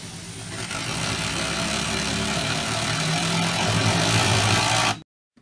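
A DeWalt Atomic compact drill/driver runs steadily at low speed under test, a loud continuous motor whir lasting about five seconds before cutting off abruptly into silence.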